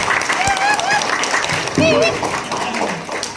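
A school audience gives a round of applause to a student presenter, with clapping mixed with cheers and whoops and fairly loud voices over the top.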